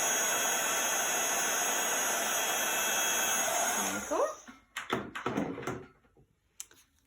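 An embossing heat tool melts embossing powder on a card with a steady blowing roar for about four seconds, then cuts off and a voice speaks briefly over light handling noises.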